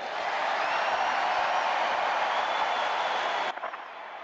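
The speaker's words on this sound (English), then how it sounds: "These USA chants got started because early in his remarks, the crowd started cheering Trump, Trump, Trump" A large political rally crowd roars steadily, a dense wash of cheering and applause that holds loud and even before cutting abruptly to a thinner, quieter murmur near the end.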